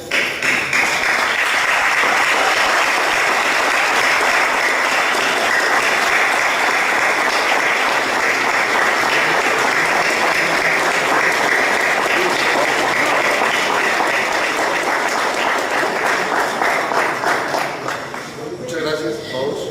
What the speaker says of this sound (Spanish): acompañado por supuesto de un fuerte aplauso